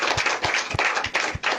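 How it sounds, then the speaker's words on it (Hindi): An audience at a church sermon claps hands in a steady, even rhythm, with about five clear claps over a brief stretch and nearby murmuring underneath. "जय मसीह, ताली बजा सकते हैं।"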